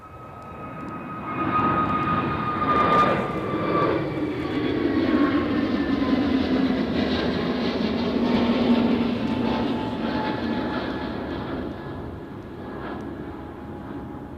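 Brand-new Airbus A321neo jet airliner at Edinburgh Airport, a steady loud engine roar with a high whine that slowly falls in pitch as the aircraft passes nearby, easing off slightly toward the end.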